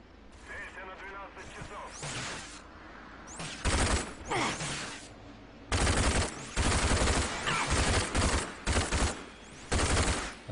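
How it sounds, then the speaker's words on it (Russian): Government machine gun firing in the shooter game Rage, loud bursts of rapid automatic fire in several separate volleys, some long and sustained, with mechanical clatter and game noise between them. "значит, пулемет правительства."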